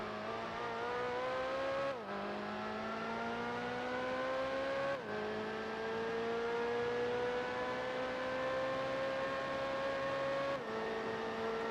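Race cars including a BMW and a Mazda RX-8 drive in a Gran Turismo 4 race, their engines droning steadily and climbing in pitch between three sharp gear shifts, with no voices.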